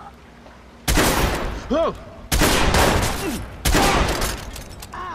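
Heavy gunfire in the Watch Dogs video game: three loud, sustained bursts of shooting with short gaps between, close and dense, while someone shouts over the shots.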